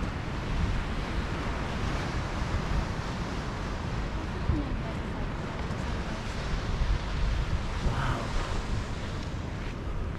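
Ocean waves at a seaside spot where cactus grows, a steady rushing surf with wind buffeting the microphone, continuous throughout, with faint talk in the background.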